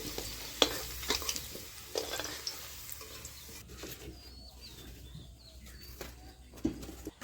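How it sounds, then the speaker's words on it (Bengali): Potatoes fry lightly in oil in a pan for a local goat meat curry, with a soft sizzle and intermittent scraping stirs and clinks, while faint birds chirp in the background. "মাংস রান্না করার জন্য আলুগুলো হালকা করে ভেজে নিলাম।"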